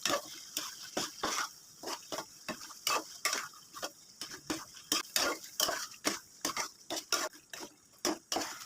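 Beef biryani marinade of meat with green chilies and yogurt being mixed by hand, with repeated quick clinks and scrapes of a utensil against a pot or bowl in an uneven rhythm, fairly close and quiet.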